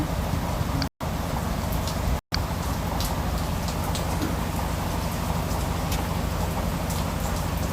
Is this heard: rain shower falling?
yes